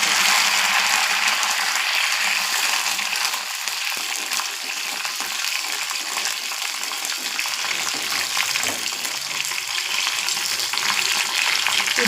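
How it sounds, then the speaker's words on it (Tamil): Garlic and curry leaves fry in hot oil, a loud continuous crackling sizzle with bursts of spitting, steady and close throughout, occasional stirring scrapes mixed in. "இப்போது பூண்டு போட்டுக்கலாம். அடுத்தது கருவேப்பிலை போட்டுக்கலாம்."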